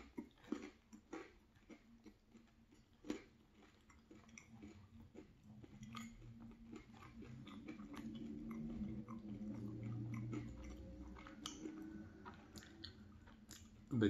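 Quiet, close chewing on a cheese bagel, with soft crunches and moist bites repeating through a calm breakfast and a faint clink of cutlery near the end, with no talking.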